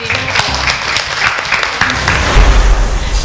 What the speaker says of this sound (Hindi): फिर एक बार दोबारा तालियां बनती है।